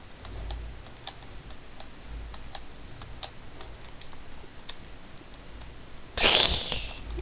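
A computer keyboard clatters with steady, sparse key taps close by while Roblox is being played, followed by a sudden louder burst at the end.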